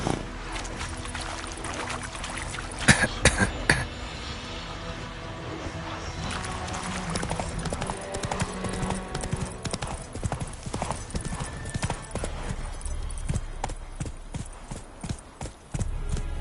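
Horse hooves clip-clop steadily in The Witcher 3 video game, a continuous rhythmic trot of close, distinct hoof strikes with occasional snorts, running alone without talk.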